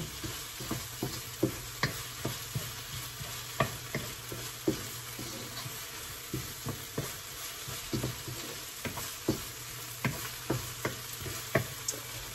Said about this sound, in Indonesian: Nah, ini ditumis terus. Sampai kapan? Sampai cabenya ini agak mateng.